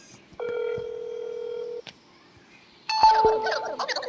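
In the video game That's Not My Neighbor, a phone call is dialed: a steady electronic tone sounds, then a short pause, then a burst of rapid beeping tones, close and clean, with a faint voice in the background.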